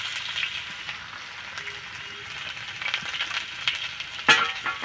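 Chopped onions sizzle in hot oil with cumin seeds in a pan, a steady close crackle broken by scattered pops. A sharp scrape or clink of a stirring utensil comes near the end.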